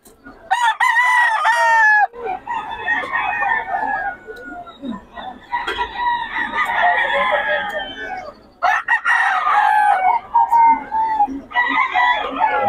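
Gamecock roosters crow over and over at a Bocaue market stall, with repeated loud, close calls that overlap, separated by short gaps and joined by some clucking.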